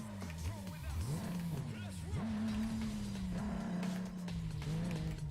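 A car drives in Need for Speed Most Wanted, its game engine droning low and rising in pitch through gear shifts, with tire squeal and racing noise layered underneath people talking throughout.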